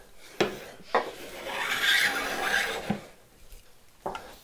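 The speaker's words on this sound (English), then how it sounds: "And this will give me a chamfer. And as long as I count my passes and I keep it relatively close to 45, I'll get these really cool curls." A hand tool cuts a chamfer along a wooden picture-frame edge, raising curls: a few sharp knocks set off one long, rasping scrape across the grain, followed by quieter strokes and a final tap.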